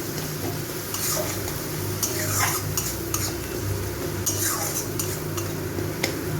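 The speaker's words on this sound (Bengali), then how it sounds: "আমি এই মশলাটাকে একটু কষিয়ে নেব।" Spice paste with Kashmiri red chilli powder and a little water is stirred in a pan for a fish curry, with a metal spoon scraping and clinking against the pan over a low, soft sizzle, close and continuous.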